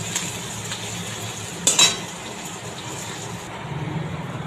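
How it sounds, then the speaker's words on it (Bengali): Onions fry in a pan until reddish, giving a steady close sizzle with a short burst of stirring clatter midway, and no voices. "পেঁয়াজগুলো একটু লাল করে ভাজা হবে"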